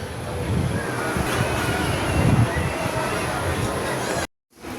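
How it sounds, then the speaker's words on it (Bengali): Dense, steady roar of heavy monsoon-season rain outside a balcony in Digha, loud and close, cutting off abruptly near the end before briefly returning. "বাইরে খুব জোরে বৃষ্টি শুরু হয়ে গেছে"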